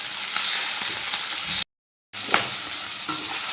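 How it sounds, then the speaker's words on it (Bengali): Tomato pieces and capsicum fry together in oil in a pan, producing a steady loud sizzle with stirring scrapes, briefly cut to silence partway through before the sizzling resumes, and no talking. "টমেটোটাও ক্যাপসিকামের সাথে ভালো করে একটু ভেজে নেব।"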